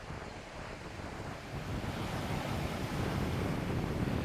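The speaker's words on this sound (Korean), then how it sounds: "파도 소리가 좋습니다." Ocean waves break and wash continuously along the Jeju shore at Songaksan, a dense roaring surf mixed with buffeting wind noise, growing slightly louder midway, with no voices.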